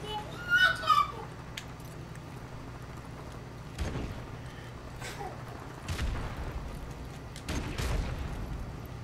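A grenade goes off at the spawn point in the online shooter Showdown, one of several broadband booms spread through the clip with a low rumble underneath. Each blast is moderately loud and comes alongside faint game ambience and a few brief voices.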